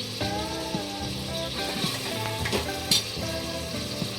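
A pan sizzles steadily as a tomato masala for vajri cooks, a constant frying hiss with faint background music and an occasional sharper crackle.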